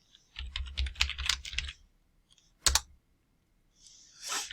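Code being typed on a computer keyboard, close bursts of rapid key clicks, a pause, a brief cluster of taps, then a soft breath near the end.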